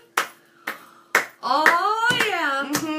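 Three sharp, close hand claps spaced about half a second apart, followed by a sustained tonal, voice-like sound broken by a few more quick hand strikes.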